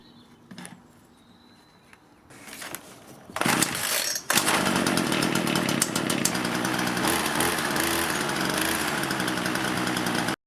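After a few pulls and sputters, a small two-stroke engine fires up and runs loudly and steadily at a high, buzzing pitch, close by.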